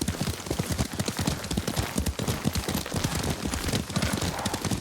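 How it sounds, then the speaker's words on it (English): Horse hooves clip-clop in a fast, steady rhythm in the game Ghost of Tsushima, close and continuous with no speech over them. "Lord Sakai taught me to ride a horse."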